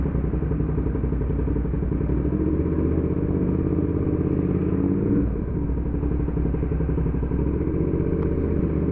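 A Triumph Speed Triple motorcycle engine runs steadily and close by, with a continuous loud drone and one brief clattering thump near the middle.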